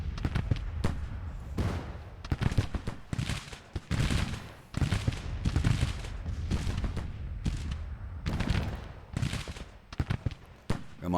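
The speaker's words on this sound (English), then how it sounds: "but these guys are firing" Skirmishers in a Civil War strategy game fire muskets in repeated ragged volleys and scattered single shots, loud and close, with crackling bursts coming one after another and no talk.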